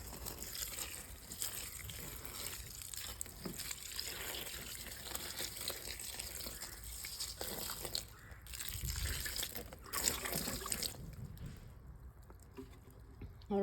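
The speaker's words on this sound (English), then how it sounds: "I am gonna go ahead and pour my water all over them." Water poured over a worm bin, a steady broadband splashing and trickling that runs throughout, swelling a little near the end.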